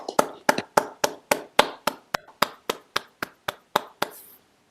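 About fifteen sharp, evenly spaced claps ring out in a steady rhythm, sounding like a single person or a small group clapping along at a virtual annual general meeting, then stop abruptly.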